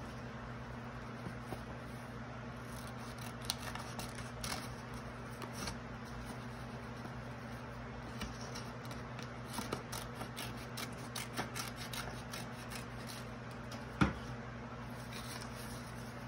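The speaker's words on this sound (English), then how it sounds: "cut the paper in small pieces" Scissors snip paper into small pieces for a children's police officer craft, giving quiet, sparse cutting clicks and rustles spread over a steady background hiss, with no talking.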